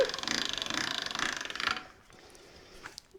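A hand-cranked pasta machine at setting one rolls a sheet of ricotta tortelli dough, giving a rapid ratcheting clatter that runs steadily for under two seconds, then stops, leaving faint clicks and handling noises.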